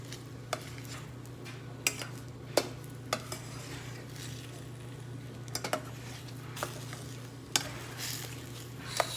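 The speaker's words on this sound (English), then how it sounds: "Scrambled eggs." Scrambled eggs cooking on a homemade coffee can cooker, a steady low sizzle with a constant hum beneath, punctuated by sharp scrapes and taps of a utensil against the pan every second or two, no voices.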